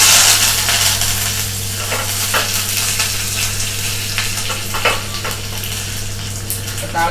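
Mustard seeds, dried red chillies and curry leaves sizzle and crackle in hot oil for a tempering to pour over a mint and coriander chutney, with a steady close frying hiss and scattered pops.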